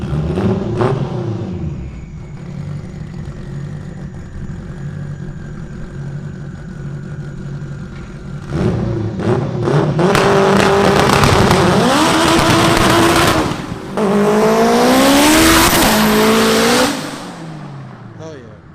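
An AWD turbo K20-swapped Honda EG revs and does digs, with the engine rising and falling in loud aggressive pulls close by, with voices in between.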